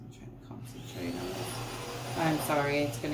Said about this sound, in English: it's gonna get loud because the husband is vacuuming